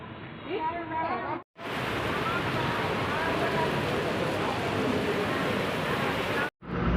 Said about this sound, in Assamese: পূৰা বৰষুণে পাই গ'ল আমাক